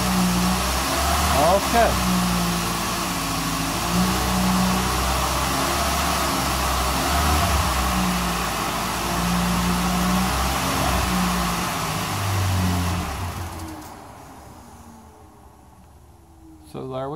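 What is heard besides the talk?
car engine revved to 2,000 RPM then idling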